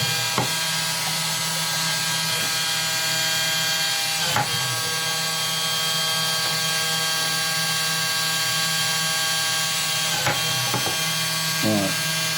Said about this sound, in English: Or use a pin drill, that's another one.